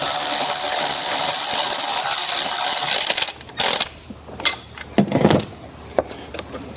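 On a Chrysler 200 with overheating and leaking problems, a loud buzzing power tool runs for about three seconds on a 10 mm bolt, then stops, followed by scattered metallic clicks and clanks of work nearby.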